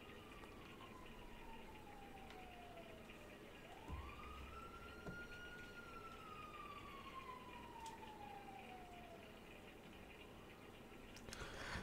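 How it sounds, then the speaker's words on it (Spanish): A police siren passes outside in the street, heard as one long rising and falling wail with a distant, muffled quality over steady background noise. "se escucha la sirena"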